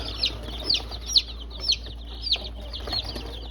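Chicks peep in short, high, regular calls, about two per second, close and clear over a low steady hum; one chick has a congenitally backward-turned leg.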